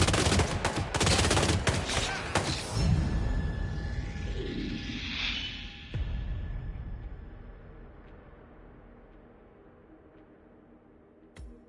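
Sustained bursts of automatic gunfire and loud shots from the video game Hitman 3, dense and rapid at first, then thinning out as a whooshing sweep passes and the firing fades into a quieter tail.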